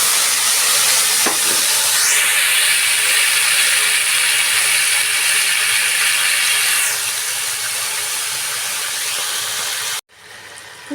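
Tomato pieces sizzle steadily in hot oil on a high flame, a loud continuous hiss of frying that holds for about ten seconds before cutting off abruptly, with no voices.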